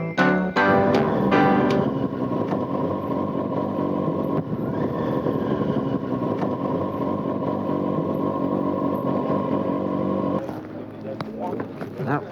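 A motorcycle ridden during a riding school lesson, with a steady, close engine drone that holds for about ten seconds and then eases off, while a person talks over it.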